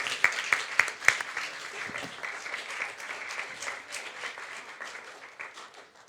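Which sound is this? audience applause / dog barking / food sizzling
audience applause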